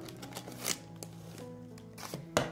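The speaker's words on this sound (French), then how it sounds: "on coupe encore un petit peu ici pour pas que ça dépasse de trop" Pinking scissors snipping gift wrapping paper while wrapping a Bitzee toy as a present, giving a few sharp, close crisp cuts spaced irregularly over quiet paper rustling.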